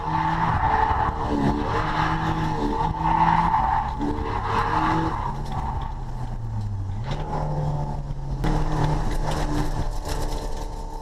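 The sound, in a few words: drift car tires squealing on track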